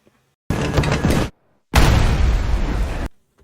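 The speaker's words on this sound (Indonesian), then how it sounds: "kediaman Sang-min pun meledak" A house blows up in a film scene, two loud, dense roaring bursts close by, the first short and the second longer, with near silence before and between them.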